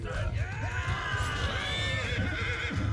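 Horse neighing and whinnying in the Mount & Blade 2 Bannerlord video game, a rising-and-falling whinny over steady clip-clopping hooves and a dense battle din, loud and continuous for about three seconds.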